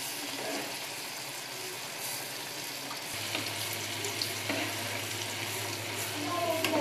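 Batata vada for fasting deep-frying in hot oil, a steady sizzling hiss throughout with a low hum joining halfway, occasional stir or ladle clinks, no talk.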